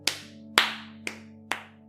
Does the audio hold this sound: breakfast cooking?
no